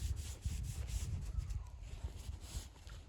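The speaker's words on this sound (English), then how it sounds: "Let me keep rubbing it" A hand rubbing an object during a fall hunting outing, heard as soft, repeated scraping strokes in an uneven rhythm, close and fairly quiet, with a faint outdoor background.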